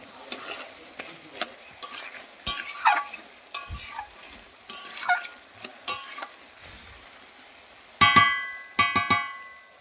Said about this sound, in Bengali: ভাজা হয়ে যাচ্ছে, এখনো বাকি আছে অনেকটা ভাজা হতে।